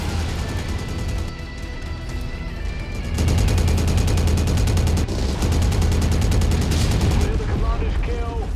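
Machine guns fire in MechWarrior, loud continuous rattling bursts that grow denser in the middle and run under some talk, with a short pause before the fire resumes.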